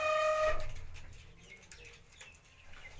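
A champion racing pigeon, a family's golden-coloured loft bird at a Gujranwala rooftop, gives a short close coo-like call with harmonic tones at the start, then softer rustling and faint background noise follow.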